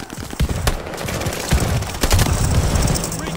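Rapid automatic gunfire in Call of Duty Vanguard on the Shipment map, dense overlapping bursts of loud close shots and distant cracks filling the whole stretch without pause.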